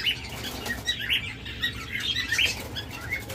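Pet birds at a bird sale, among them doves, lovebirds, cockatiels and budgerigars, chirp in a steady cluster of small calls with repeated wing flapping, close by over a busy background hum and no talk.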